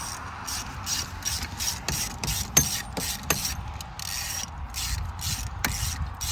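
A hand ratchet clicks rapidly in bursts as nuts are spun off the outdrive of a scrap Sea Ray Sundancer boat, close up, with occasional sharp metallic knocks between runs of clicking.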